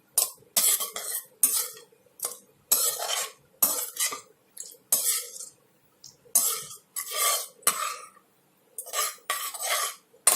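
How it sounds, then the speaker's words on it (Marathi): A spoon stirs chili sauce, tomato sauce and soy sauce together in a dish for a crispy chicken recipe, giving repeated close scraping and clinking strokes in a steady rhythm with short pauses and no talking. "चिली सॉस आणि टमॅटो सॉस. आताला मिक्स करूया."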